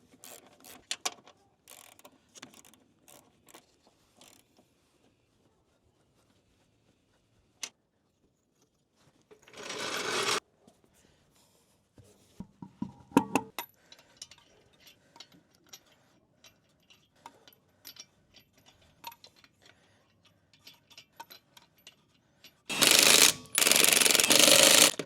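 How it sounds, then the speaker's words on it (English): Wrench work on the three 15 mm strut mounting bolts of a 2006–2012 RAV4 4WD, heard as scattered faint metallic clicks and ratcheting spread over a long stretch, with a few louder bursts of clanking and rustling. "Now we're going to tighten down the 3 strut mounting bolts"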